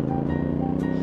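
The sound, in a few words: CF Moto 450NK motorcycle stock exhaust note while riding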